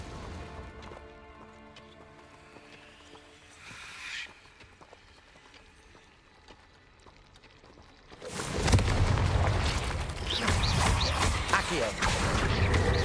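A Confringo spell blast in a video game, with a loud, roaring burst of crashing noise that stays heavy to the end, preceded by creaking mechanical sounds and a short swell.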